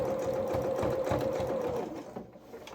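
A sewing machine runs steadily, stitching the underarm seam of a small coverall for a Luna Lapin mechanic's outfit, with a close, even whirring hum that cuts off just before the end.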